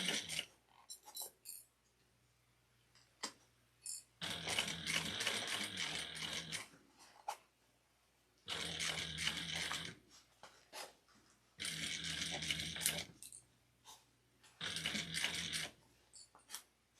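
A sewing machine stitches a crossbody bag in three or four bursts of fast mechanical whirring, separated by quiet pauses filled with small clicks and handling noises.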